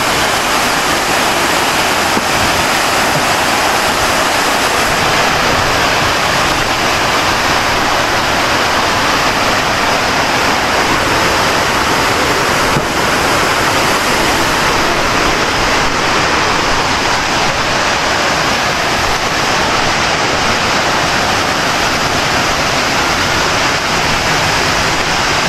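Waterfall at Tapuakan River in Pugo, La Union, a loud, steady, unbroken roar of rushing water that fills the whole stretch without pause, with no voices over it.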